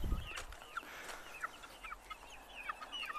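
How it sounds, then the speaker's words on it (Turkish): Turkeys and a few chicks roam outside on a poultry farm on an overcast Antalya evening, giving scattered soft clucks, gobbles and thin cheeping calls at moderate distance, with a brief low thump at the start. "hindiler ve birkaç civcivimiz var dışarıda gezen"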